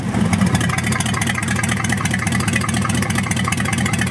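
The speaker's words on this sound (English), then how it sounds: "I'll give you a quick start up so you can hear it." 1940 Ford pickup hot rod engine running just after start-up, a loud, throbbing low idle with rapid pulsing exhaust beats, close and steady throughout.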